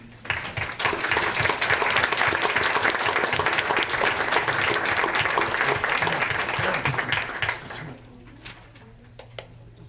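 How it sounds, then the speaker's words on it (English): At a school board meeting, a room of people applauds students' families with steady, close clapping for about seven seconds. It then drops to a few scattered claps and low room noise. "we can give you a round of applause"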